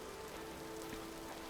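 Steady rainfall in the modded Vintage Story game world, a soft, even patter with a faint hum beneath, quiet and unbroken throughout.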